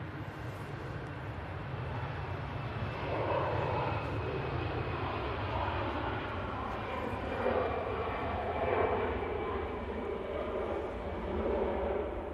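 EasyJet passenger jet engines at Manchester Airport make a steady, broad roar that holds fairly loud and even throughout, with no talk over it.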